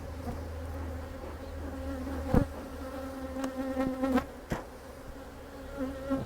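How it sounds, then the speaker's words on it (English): Agitated honey bees swarm around a smoked nuc hive, filling the air with a continuous, close buzzing drone punctuated by louder passes of individual bees. "Bees are certainly ticked off."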